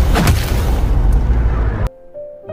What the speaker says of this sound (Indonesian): sebelum akhirnya mobil benar-benar meledak